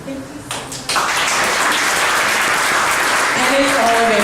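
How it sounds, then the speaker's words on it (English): Applause for a panel of Black women entrepreneurs at a morning event: a brief voice, then dense, steady clapping from the audience that continues to the end with a voice rising over it. "I just want to give a brief round of applause to our panelists here"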